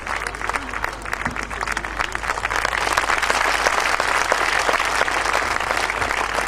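Sustained audience applause fills a Hindi poetry gathering (kavi sammelan) honouring the police, steady, dense clapping from a sizable crowd, close and loud, building slightly, with a voice faintly audible beneath.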